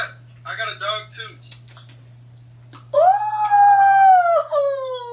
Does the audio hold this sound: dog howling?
yes